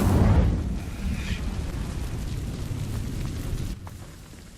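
An Incendio fire spell igniting dry vines in Hogwarts Legacy: a loud whooshing burst of flame at the start, then a rumbling crackle that holds steady before cutting off.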